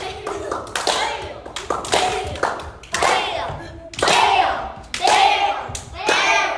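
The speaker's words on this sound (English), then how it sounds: "Right now, everybody clap your hands together." A dance class group claps hands together in a steady repeated rhythm, with a burst of claps roughly every second, under an instructor's voice.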